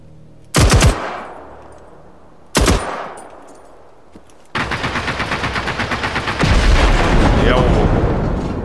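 Gunfire and explosions from the video game Generation Zero: two sharp, booming blasts a couple of seconds apart, followed by rapid rhythmic automatic fire and a heavy explosive burst of a gas tanker blowing up, loud and close.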